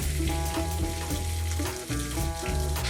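Pigeons, chestnuts and smoked lardons frying in a pan over low heat, a dense continuous sizzle with rhythmic stirring scrapes, close and steady throughout.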